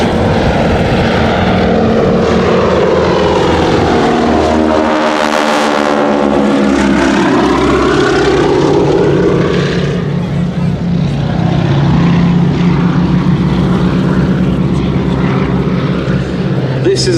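A 450 horsepower Stearman biplane engine drones loudly and steadily at a wing-walking air display at Duxford, its pitch sweeping as the aircraft passes close by, with a commentator talking over it throughout.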